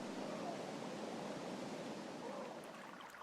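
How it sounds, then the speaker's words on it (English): Daubney Creek, a cold-water trout stream in Brantford, flows with a steady, soft wash of running water, moderately quiet and continuous, with no voices. "Daubney Creek, which is a cold water stream here in Brantford"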